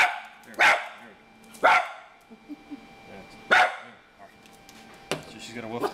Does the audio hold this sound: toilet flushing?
no